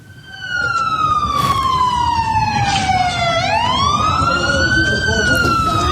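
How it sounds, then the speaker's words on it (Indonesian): An ambulance siren blares loudly and continuously in the southern suburbs of Beirut, Lebanon, after an Israeli airstrike, its wail sliding steadily down in pitch and then sweeping back up, with street noise underneath. "Suara sirine ambulans berbunyi kencang pasca serangan udara Israel di pinggiran selatan Beirut, Lebanon."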